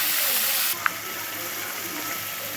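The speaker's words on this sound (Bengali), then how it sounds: "এবার তেলের মধ্যে আমি যে মশলাটা পেস্ট করে রেখেছিলাম ওইটা দিয়ে দিলাম।" Spice paste hits hot oil already holding cumin seeds and bay leaf, giving a steady close sizzle that drops sharply to a quieter frying hiss, with a brief clink just after.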